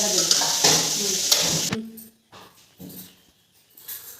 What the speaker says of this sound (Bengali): এখন সবজিগুলোও দিয়ে দিলাম, একটু ভালো করে নেড়ে নিই